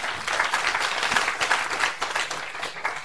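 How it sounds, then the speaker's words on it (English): Audience applause for panelists at a fintech meetup, steady dense clapping from a modest crowd that holds for about three seconds without letting up. "So shall we give a very big round of applause for our panelists?"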